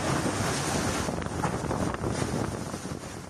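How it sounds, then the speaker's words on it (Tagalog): Strong typhoon wind and rain in Batanes under wind signal number 4, a dense, roaring, steady rush of wind noise with rain and no speech. "sa lakas ng hangin at ulan sa kasagsagan ng wind signal number 4 sa Batanes dulot ng bagyong Julian"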